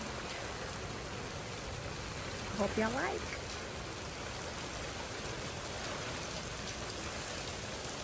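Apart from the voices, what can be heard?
rain falling in an evening garden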